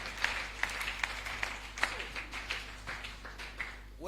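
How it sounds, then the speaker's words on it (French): A church congregation claps in a quick, loose rhythm, the sound modest and a little distant, with some faint voices underneath. "Acclamons très très fort, cher peuple de Dieu"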